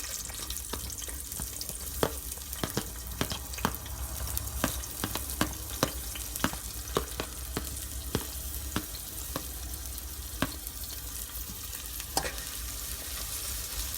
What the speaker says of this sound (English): and fry few minutes till it brown